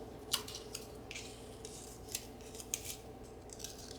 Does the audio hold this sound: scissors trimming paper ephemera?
yes